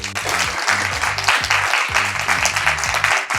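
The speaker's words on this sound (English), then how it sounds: "Can the right-hand side of the room give the left-hand side of the room a massive round of applause for just coming today?" Lively applause from a room full of people at a live talk, one side of the audience clapping for the other, dense and sustained over steady background music.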